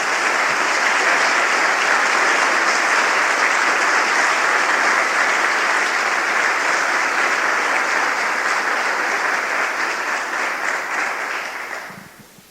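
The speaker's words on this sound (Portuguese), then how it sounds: "Dê uma salva de palmas ao Senhor Jesus" A church congregation claps for Jesus in loud, dense, sustained applause that fills the room, then tapers off at the end with no voices over it.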